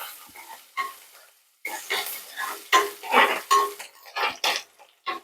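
Small onions and curry leaves sautéing in a pan while being stirred, with repeated metallic scrapes and clinks of a utensil against the pan in an irregular rhythm, close and moderately loud, no talking.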